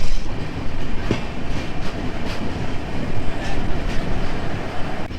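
A Jagannath Express passenger train runs between Puri and Shalimar, heard from inside as a steady loud rumble with rhythmic clicks of wheels over rail joints, continuous throughout and with no talk.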